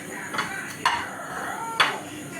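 Plates and cutlery clink while a plate of chowmein is arranged, with a few short sharp knocks over a low steady room background.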